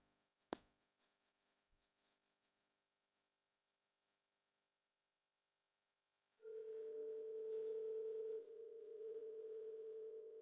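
After a sharp click and a long near-silence, a steady electronic telephone tone sounds continuously, a flat buzzing hum that dips slightly before continuing.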